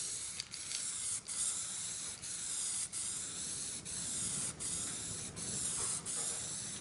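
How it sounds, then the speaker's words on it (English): A spray nozzle hisses steadily as it coats a piece with primer inside a shed, a close, continuous spray broken by brief regular pauses between passes. "holding the spray nozzle flat down towards the piece."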